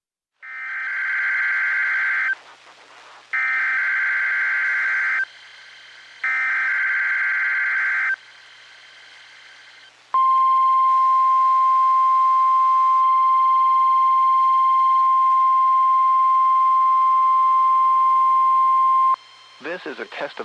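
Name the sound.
Emergency Alert System test alert tone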